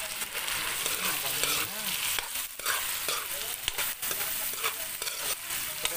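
Pork fries in oil for Bicol express, a close, dense sizzle with crackling pops and the scrape of stirring, steady throughout with no talk.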